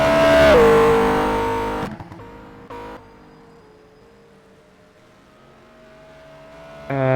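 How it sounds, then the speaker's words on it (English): Race cars in a sim racing endurance game at Sepang roar past loudly at first, their engine pitch dropping as one car passes, then fading to faint distant engine drone before another car surges in at the end. "Number 302 car still going round, running wide as usual."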